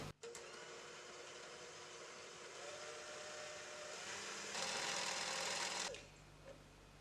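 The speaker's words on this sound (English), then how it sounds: "we're going to beat the eggs until they're pale yellow." An electric mixer beats eggs for a raspberry curd, a loud steady whirring hum that runs continuously, rises in pitch briefly partway through, then cuts off, leaving quiet room noise.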